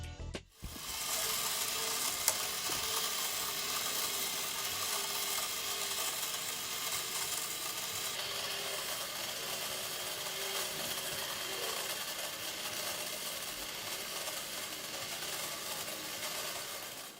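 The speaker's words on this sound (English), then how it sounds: "I wanted to make a drawing machine, and that's what this does" A handmade automaton drawing machine runs continuously, a steady dense whirring and clicking of small gears and ratchets, close and unbroken, after a brief thump at the start.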